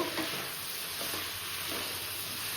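Mixed vegetables sautéing with spices in a pan, a steady moderate sizzle with a few soft stirring scrapes and no talking.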